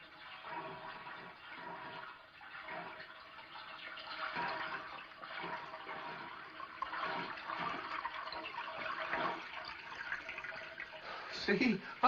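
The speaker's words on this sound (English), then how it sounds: "I told you it sounded like water running." Water runs into a tub indoors with a steady rushing hiss lasting throughout, moderately loud, with voices talking over it in places and a brief clatter near the end.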